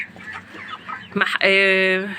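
Chickens cluck and squawk close by in a coop after a heat wave, short calls building to a sustained loud cry, with a voice talking underneath.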